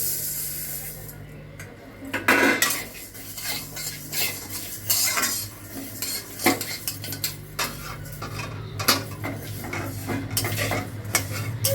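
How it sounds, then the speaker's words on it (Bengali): Mung dal is dry-roasted in a kadai after cumin and coriander were warmed, for a mung dal and bottle gourd dish. A metal spoon scrapes and clinks against the pan in steady, busy strokes, with no talk. "ডাল দিচ্ছি।"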